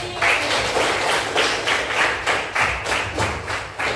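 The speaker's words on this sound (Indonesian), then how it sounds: "tepuk tangan untuk Rifki" Classroom clapping for a pupil named Rifki, a small group clapping in rhythmic bursts, close and fairly loud, with no talk over it.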